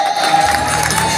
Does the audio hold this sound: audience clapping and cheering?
yes